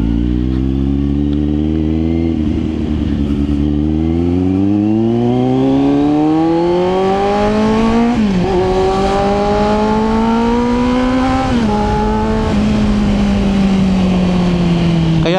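Exhaust note of a 2022 Kawasaki Z900 fitted with an aftermarket exhaust while riding, a loud steady engine drone that rises and falls through several gear changes, with continuous wind rush underneath.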